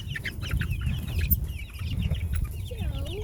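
Chickens cluck and chatter steadily nearby, with a few higher squawks and a rising call near the end, over a low background hum.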